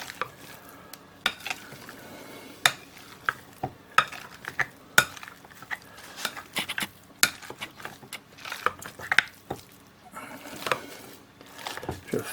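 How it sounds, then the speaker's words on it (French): Hot boiled potatoes being pressed and stirred with butter for pommes duchesse, giving close, irregular squishing and scraping clatters of utensil against bowl, with soft thuds and clinks continuing throughout. "je vais reprendre le pressage étant donné que mes pommes de terre sont chaudes. Ça va faire fondre le beurre et bien le mélanger."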